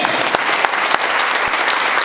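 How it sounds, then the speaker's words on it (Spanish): Church congregation applauding during a sermon, a steady, full burst of many hands clapping throughout, loud and close, with no talk over it. "Denle un aplauso al Señor"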